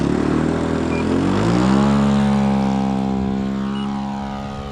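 A Hanger9 J3 Cub model airplane's engine and propeller rev up, a loud close buzzing drone that rises in pitch, holds, then slowly fades as the plane moves away, with no talking.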